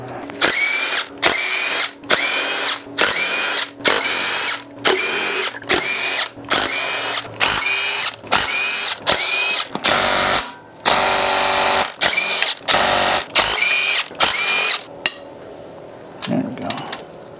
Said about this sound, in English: got them loose, time to take the bolts out.